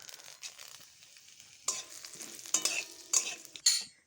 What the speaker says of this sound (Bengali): জিরেটা একটু ভাজা হয়ে এসে এরপরে ছেড়ে দিচ্ছি গোটা গরম মশলা আর এই শুকনো লঙ্কাটাকে